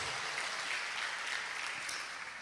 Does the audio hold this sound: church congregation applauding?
yes